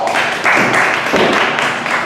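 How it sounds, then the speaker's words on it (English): Dense audience applause for Rob at a live comedy show, a steady wash of clapping at full volume for about two seconds, with no talk. "Everybody give Rob a big round of applause."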